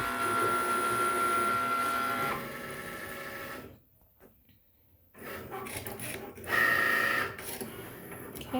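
Electronic cutting machine slicing material, a steady whirring motor drone with a brief quiet pause in the middle before the whirring resumes, close-up, with a voice faintly under it.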